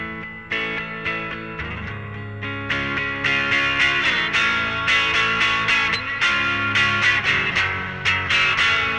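Electric guitar on the neck pickup with a warm, rounded tone playing chords and melodic phrases, effects-laden with some chorus and grit, alone without voices.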